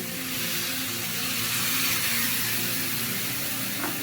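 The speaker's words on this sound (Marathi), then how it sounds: "आता आपण याच्यात दूध टाकून घेऊया" Milk is poured into a hot pan of cooking carrot halwa, producing a steady, close, broadband hiss and sizzle that continues throughout without speech.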